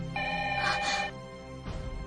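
A telephone rings at night, a near, bright electronic ringtone burst lasting about a second, a pause, then the ring starting again.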